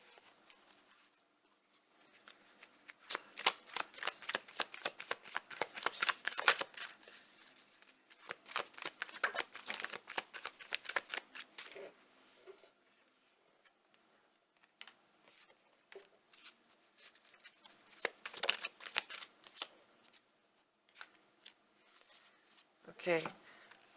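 Tarot cards are shuffled in bursts of rapid riffling flutter, two long runs followed by shorter sporadic flicks and taps, close and quiet against a near-silent background.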